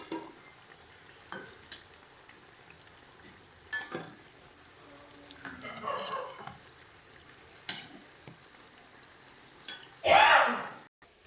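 Prawn fritters in oil being turned and lifted, with intermittent metal utensil clinks and scrapes against the pan over a quiet, faint sizzle, one louder burst of frying near the end.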